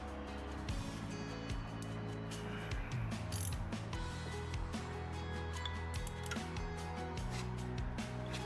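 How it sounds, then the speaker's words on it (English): Torque wrench ratcheting as it tightens the clutch hub nut on an Iron Head Harley-Davidson Sportster to 150 foot-pounds: rapid, loud repeated metallic clicks in steady strokes, close up over a mechanical background hum. "Torque this one down to 150 foot-pounds."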